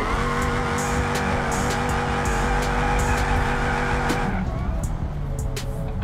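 A car in BeamNG Drive drifts with stock steering angle, giving a loud continuous tire squeal over a steady engine drone that cuts off sharply near the end.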